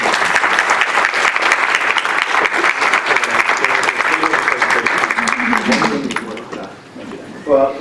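Sustained audience applause welcoming a speaker at an AERA academic presentation, a dense steady clapping crowd lasting several seconds before tapering off, with a voice beginning to speak near the end.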